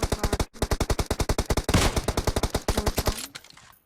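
Rapid automatic gunfire from a PUBG Mobile match, a dense string of sharp loud shots in quick bursts with a brief pause near the start and a trailing tail at the end.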